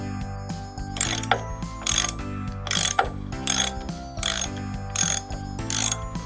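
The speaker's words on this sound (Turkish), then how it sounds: "Şimdi bir penseye ihtiyacım var. Şimdi de güzelce sıkılaştıralım." Pliers tightening a plastic part on a toy car carrier, giving a run of close, regular ratcheting clicks and squeaky turns in evenly spaced bursts of about one per second.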